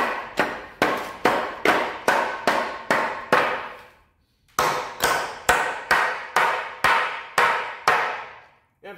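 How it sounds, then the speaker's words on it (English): Steady, loud blows of a claw hammer on a tight pallet board being knocked free ring out in a regular rhythm of about a dozen hits, with a short pause partway through before the pounding starts again. "Again, claw hammer it."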